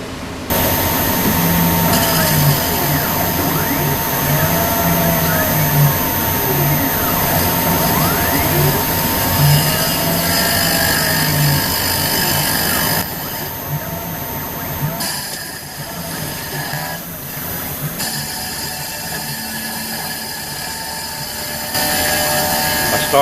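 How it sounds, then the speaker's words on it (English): A CNC router bores out a hole in a clamped mini mill part, enlarging it from 1/2 inch to 28 millimeters. A loud, steady machining whine with a harmonic stack runs throughout and changes character partway through, with no talk. "I've got the part clamped down onto the CNC router table and everything lined up, getting ready to start the program to bore out the hole"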